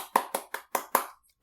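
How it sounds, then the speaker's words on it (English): Five sharp, evenly spaced hand claps ring out close and loud, a small, sparse round of applause for a podcast guest with no voices. "Give her a round of applause, folks."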